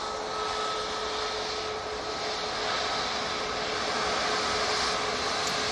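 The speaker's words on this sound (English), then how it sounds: "Ryanair now coming on in front of me via Victor Alpha." Steady broadband roar of a Ryanair airliner moving along a taxiway at Manchester Airport, continuous and fairly loud throughout with a faint whine running underneath, no voices.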